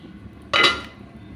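A cooking pot being covered with its lid, giving a single close metallic clink that rings out briefly and fades in an otherwise quiet kitchen.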